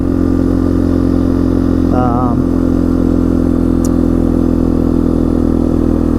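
A 1998 Yamaha Big Bear 350 4x4 ATV runs loud and constant up close on a test drive, its engine droning steadily with a brief pitch warble partway through.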